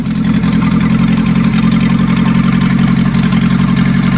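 Renault 18 with a 2.0 carbureted engine, running loud and close with a steady, even throb, its speed rising slightly as the throttle opens.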